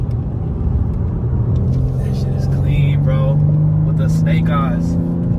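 A British racing green car drives past a moving vehicle on the way to a car meet, its engine rumble rising and fading under near, continuous talk.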